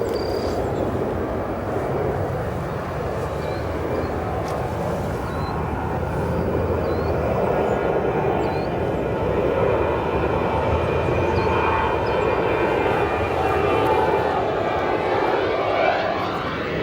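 A LOT Polish Airlines airliner at O'Hare Airport produces a loud, sustained engine roar that swells gradually, heard outdoors at fairly close range without talk.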